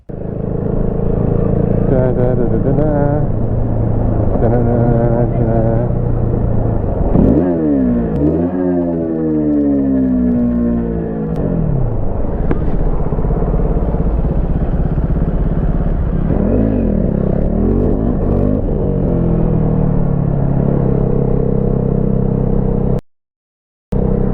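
Motorcycle engine running close and loud on a road, with rising and falling revs through several throttle bursts and some clatter, briefly cutting out near the end.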